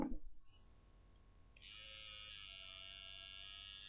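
A small electric lady shaver switches on and buzzes steadily with a thin high-pitched whine, close and fairly faint, after a brief rustle at the start.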